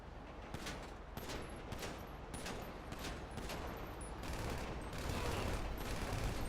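Rapid gunfire in the video game GTA 5, a dense fusillade of shots crackling continuously at a steady loud level, growing slightly heavier toward the end.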